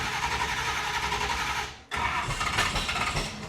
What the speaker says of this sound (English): All right, here we go. Cold start.